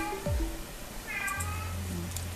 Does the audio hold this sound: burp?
no